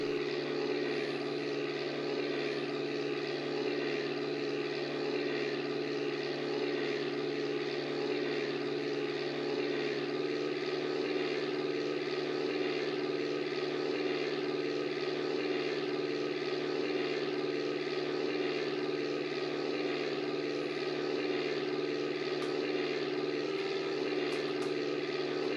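A propeller airplane's engine drones steadily and evenly in the DOS game Microsoft Flight Simulator 5.1, a constant mid-pitched hum with no breaks.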